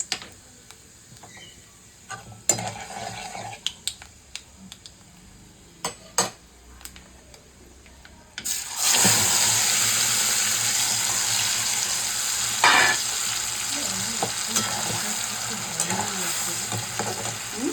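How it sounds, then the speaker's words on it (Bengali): Whole spices dropped into a generous amount of hot oil for tempering: quiet kitchen clatter and a few clicks, then a sudden loud sizzle that bursts in and crackles steadily to the end. "অনেকটাই তেল দিয়েছি ফোড়নটা দিয়ে দিলাম"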